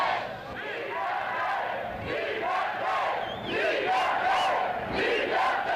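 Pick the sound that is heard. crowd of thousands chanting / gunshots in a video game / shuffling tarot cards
crowd of thousands chanting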